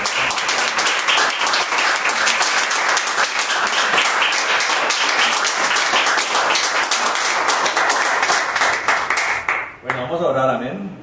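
A church congregation claps loudly and steadily in praise during a Spanish-language service, a dense ongoing round of applause that cuts off near the end as a voice speaks.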